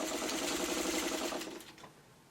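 A sewing machine stitches a long bias seam on a quilt block edged with rickrack, a steady fast mechanical whir running close and loud for most of the clip, then slowing and stopping near the end.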